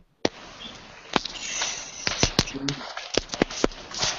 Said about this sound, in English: We got little fireworks on the line now.